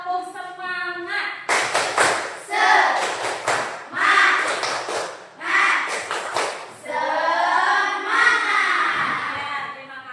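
A classroom group performs a patterned spirit clap in bursts of rhythmic hand claps and taps, led by a teacher, with voices chanting and speaking between the clapping sections.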